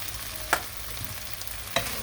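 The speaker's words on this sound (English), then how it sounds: "I'm going to give it a light stir." Cumin, coriander and chili powder fry in a pan under a steady soft sizzle, and two brief scrapes mark a light stir. No one speaks.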